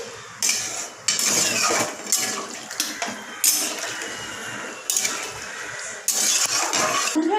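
Prawn malai curry ingredients are stirred in a pan after water goes in, with loud repeated clattering and scraping of a utensil against the pan in uneven bursts and a wet sloshing between them.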